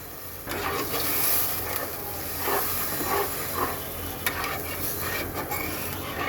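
Water is poured into sizzling masala for a tengra fish curry, setting off a sudden loud hiss and steamy sizzle that carries on, with stirring scrapes over a steady frying roar.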